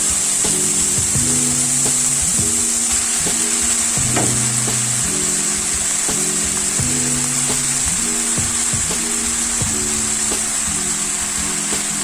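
Spinach fries and wilts in a pan with a continuous bright sizzle, while a utensil stirs it and scrapes the pan in a steady, repeating pattern, loud and close.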